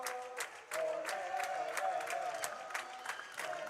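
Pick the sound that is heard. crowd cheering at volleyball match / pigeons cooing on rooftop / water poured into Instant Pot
crowd cheering at volleyball match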